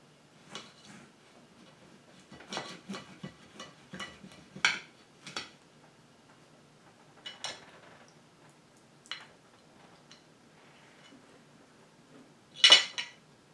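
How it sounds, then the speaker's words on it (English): A serrated knife cuts through a pasty crust with scattered light scraping and clinking strokes on a plate, faint and intermittent, with one sharper clink near the end. "Cuts with a serrated knife."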